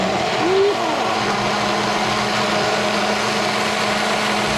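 Lawnmower running outside, a steady engine drone heard through a kitchen setting, with a brief rise in pitch near the start and a mostly even hum after.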